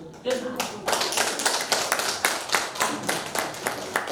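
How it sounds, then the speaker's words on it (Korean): Listeners at a Korean poet's special lecture clap in a fairly small, rhythmic burst of distinct hand claps, moderately close and steady, with a voice starting briefly at the outset. "끝나라는 박수죠"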